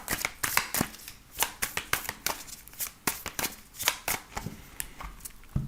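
Tarot cards being shuffled by hand, a rapid run of crisp riffling snaps and flicks close up, repeating in quick uneven bursts with no talk.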